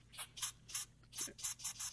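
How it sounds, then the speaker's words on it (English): Compressed air blows debris out of a stripped bolt hole on an Impala 3400 engine, coming as about seven short, sharp, quiet bursts in quick succession. "One thing I found too is using a little bit of compressed air."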